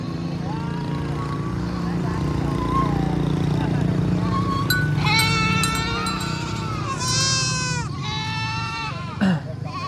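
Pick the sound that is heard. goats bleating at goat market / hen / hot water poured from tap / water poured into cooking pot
goats bleating at goat market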